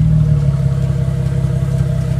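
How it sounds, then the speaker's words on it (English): A 2010 Nissan Maxima with a 3.5L V6 idles steadily close by, its exhaust giving a deep, even burble with a faint clatter running through it and no voices. "You can hear this exhaust."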